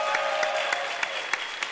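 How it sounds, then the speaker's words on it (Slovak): A studio audience gives dense, even applause, with a few sharper claps standing out now and then over a steady background tone. "Veľký potlesk pre Mariana Leška."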